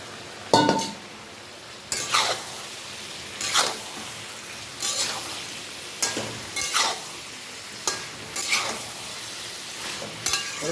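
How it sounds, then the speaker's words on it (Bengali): Pointed gourd (potol) slices frying in a home kitchen pan, with repeated stirring scrapes and soft sizzling bursts every second or so, close and moderately loud, along with occasional light clinks of utensils against the pan. "পটল ভাজাটা দিয়ে দিলাম।"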